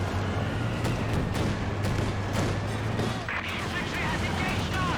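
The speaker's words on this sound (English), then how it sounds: "Many mortars hitting the mortar and slow smoke rounds" Mortar and artillery fire in a 4v4 Company of Heroes 2 battle, repeated booming impacts and shots over a steady rumble, with a voice commentating over the combat.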